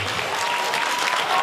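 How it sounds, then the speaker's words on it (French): Party guests applauding at a New Year's Eve celebration with an entertainer, a brief, dense burst of steady clapping with no voices. "Applaudissements s'il vous plaît pour Nathalie."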